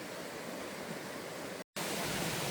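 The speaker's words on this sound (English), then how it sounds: "This is Majestic Falls, and it really is fitting of the name as it plunges into this ravine" Majestic Falls plunges into a fern-covered ravine in Oregon, a steady, loud broadband roar of falling water that holds constant, broken only by a brief gap of silence near the end.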